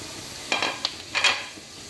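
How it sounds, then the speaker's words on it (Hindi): Vegetables with chopped ginger and green chilies sautéing in a pan for kabab, a quiet sizzle with a few short scraping stir strokes in bursts, faint and brief. "और इसके साथ ही हम जो अदरक और हरी मिर्चें कटी हुई हैं हमारी थोड़ी सी, हम वो डालेंगे।"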